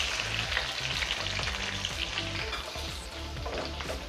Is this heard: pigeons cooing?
no